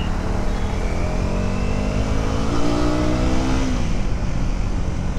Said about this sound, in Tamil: ஸோ வண்டி நீங்கள் த்ராட்டில் கொடுத்து கேட்டிங்கன்னா கேட்பான் அப்படியே.